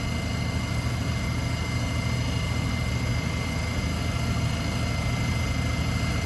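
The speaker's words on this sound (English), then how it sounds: "this lousy ceiling exhaust fan" A bathroom ceiling exhaust fan runs steadily during a straight razor shave, giving a constant, even, broadband whir with a low hum underneath and no break or change.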